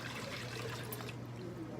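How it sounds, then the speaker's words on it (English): Four cups of warm water pour into a big bowl for challah dough, a faint steady trickle lasting under two seconds. "now you want to put your 4 cups of warm water into a really big bowl"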